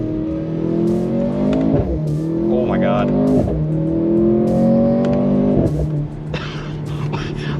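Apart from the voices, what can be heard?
Mercedes C43 AMG accelerating with exhaust pops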